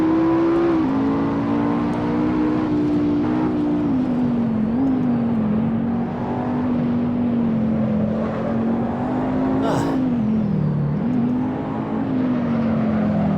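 Race car engine in the Assetto Corsa driving game, a loud steady drone holding a near-constant pitch with brief dips and rises as the car shifts and corners, continuous throughout with no talk.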